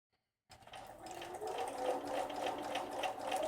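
A sewing machine chain-pieces fabric, starting abruptly after a short silence and settling into a steady, close whirring hum that holds without a break.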